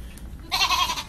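A person imitating a goat's bleat live on a radio stream, one short, nasal, wavering bleat that follows a brief quiet moment.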